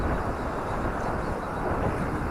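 A WLtoys V950 RC helicopter flies in gusty wind, its rotor whine blending into a steady broadband roar of wind buffeting the microphone, continuous and fairly loud throughout.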